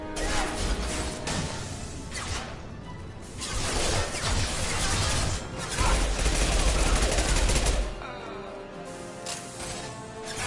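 Impact-shot gunfire in the Mass Effect 2 shooter game, a loud sustained barrage of overlapping shots and crashing impacts with mechanical clatter, surging in bursts and easing off near the end.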